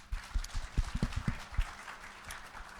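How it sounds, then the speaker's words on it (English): A conference audience at a Black Young Professionals event applauding a speaker: a short, modest burst of clapping that peaks quickly, then thins out and fades within a couple of seconds. "Round of applause for Danielle."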